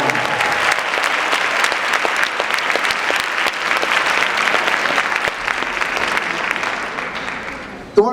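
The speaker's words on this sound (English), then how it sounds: "Give the youth a round of applause that is doing positive things in our city" An audience at a youth event in Durham applauding, a loud, sustained wash of many hands clapping, with voices and cheers mixed in, tapering off near the end.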